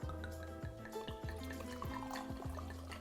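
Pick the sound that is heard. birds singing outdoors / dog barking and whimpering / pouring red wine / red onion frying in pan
pouring red wine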